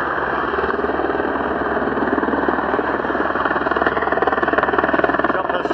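A filming helicopter's rotor chop thrums overhead at a moderate distance during a Giro d'Italia cycling stage, steady and droning with a faint rhythmic beat throughout.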